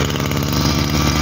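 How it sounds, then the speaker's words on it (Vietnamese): A Japanese grass cutter with a 23cc engine runs steadily nearby, a loud, continuous buzzing drone with an even mechanical rattle. "Máy nổ giòn nhá, giòn rất là ok luôn đấy."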